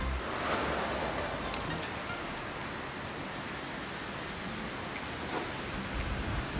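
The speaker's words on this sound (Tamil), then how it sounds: "என்னோடய காலுக்கு கீழே தண்ணி ஓடிக்கிட்டு இருக்கு மக்களே" Water flowing at a dam in a forest near Pulmoddai, heard as a steady, even rushing wash that runs continuously, close and moderately loud, with no speech.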